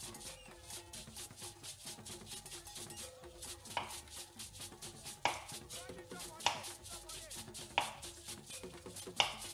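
A knife chops a boiled egg rhythmically on a cutting board, with quick repeated taps and occasional sharper knocks, set against soft background music.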